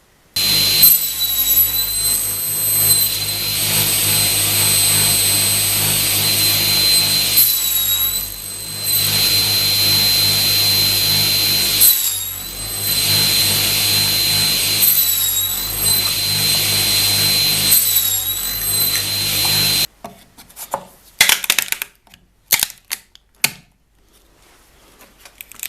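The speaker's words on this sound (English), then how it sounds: "So now I just need to cut out the housing grooves on the table saw." A table saw cuts housing grooves for a workbench frame, with a loud, sustained whining roar that dips briefly several times between passes, then cuts off into quieter scattered knocks and clatter.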